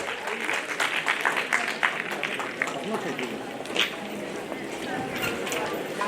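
A festival crowd at a Makar Sankranti celebration claps steadily as a guest is called onto the stage, a dense, continuous wash of applause lasting several seconds with voices mixed in.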